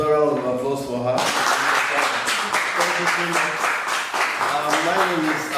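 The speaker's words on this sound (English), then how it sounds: "Another round of applause for her." An audience at a professional council talk breaks into applause after a short stretch of speech, steady dense clapping that continues loud and even for several seconds.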